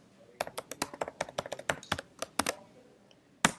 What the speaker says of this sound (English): When you enter your password and hit enter